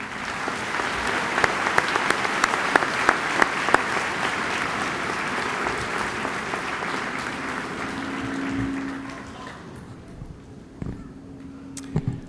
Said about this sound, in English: Please join me in a round of applause for them.